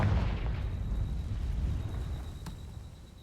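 Confringo blasting spell detonating in Hogwarts Legacy, a loud rumbling boom with a sharp crack partway through, its low roar slowly fading over a few seconds.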